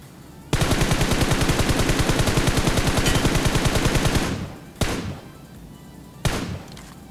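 Automatic gunfire in the battle royale game BGMI, a long loud burst of rapid rounds lasting about four seconds, then two short, sharp single shots separated by quiet.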